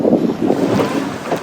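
Sailboat moving under full sails with no engine running, wind rushing steadily across the microphone along with a low wash of water, continuous and fairly loud throughout, with no talk.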